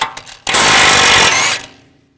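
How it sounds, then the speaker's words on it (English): Impact or power tool with a 32mm 12-point socket spinning off a front outer tie rod nut on a 2007-2013 BMW X5, one loud rattling burst about a second long after a few light clicks, then winding down. "We're going to take this nut off. Use a 32mm 12-point socket."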